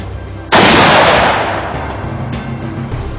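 A single loud, close .44 Magnum revolver shot cracks out sharply and then decays into a long echoing tail outdoors.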